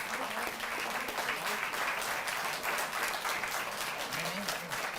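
An audience at an honor ceremony for Olympic players in Delhi gives sustained loud applause, a dense wash of clapping from a large crowd, with faint voices mixed underneath.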